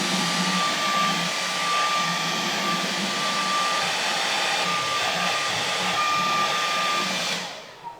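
A hair dryer blows steadily on a pipe surface during a PVC, HDPE or steel pipe repair, a loud continuous whooshing whine with a thin steady tone that runs unbroken for several seconds, then cuts off.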